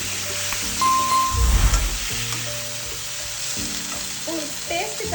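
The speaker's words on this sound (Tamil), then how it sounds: "வெங்காயம் வதங்கினோடனே நம்ம வேக வச்ச முருங்கைக்காய் ஆட் பண்ணிக்கலாம்." Boiled drumsticks frying in a pan with sautéed onion, garlic and curry leaves, giving a loud, steady close-up sizzle with brief stirring scrapes and no talking.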